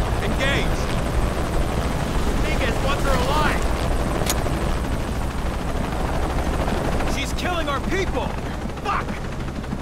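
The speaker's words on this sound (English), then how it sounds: "Always hated helicopters." Helicopter rotor drone with bursts of gunfire in the Shadow of the Tomb Raider video game, a loud constant thrum under scattered shots, with voices speaking over it.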